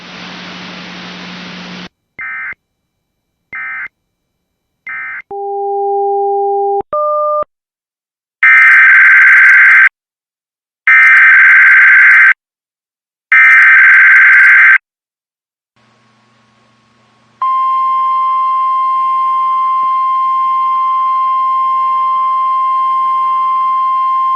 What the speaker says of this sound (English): The preceding signal was a test of the NOAA Weather Radio All Hazards Station WXJ-23 Public Warning System